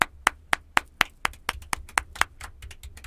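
A studio audience claps in a sparse, ragged rhythm, about a dozen sharp distinct claps over a few seconds, fairly near and moderately loud, with no talk.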